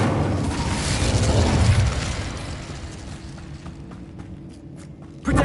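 Incendio fire spell explosion in the Hogwarts Legacy video game, a rushing burst that swells and fades over a couple of seconds, then scattered light clicks and a sudden thump at the end, with no talk.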